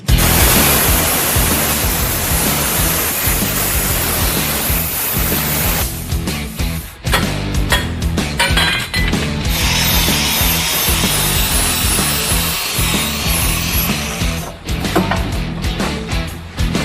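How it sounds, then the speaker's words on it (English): Power saw cutting through the steel perches of an aftermarket small-block Chevrolet motor mount cross member in a hot rod garage, a loud continuous rasping grind with brief dips and restarts, no talking. "So I cut the perches off the aftermarket motor mount cross member."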